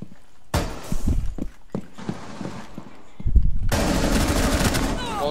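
Rapid automatic gunfire from the Rainbow Six Siege video game, with bursts of shots and impacts that break off, then a dense, loud sustained stretch of firing near the end.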